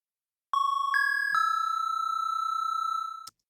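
A synthesizer patch built from two oscillators sounds a bell-like tone in three quick successive struck notes, each ringing on and sustaining smoothly before cutting off with a small click.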